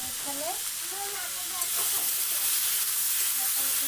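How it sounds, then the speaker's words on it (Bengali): Fish fries in oil in a kadai with a loud, constant hissing sizzle close by, with a few faint tonal sounds at the start. "তো দেখো কড়াইতে মাছ দিয়ে দিয়েছি"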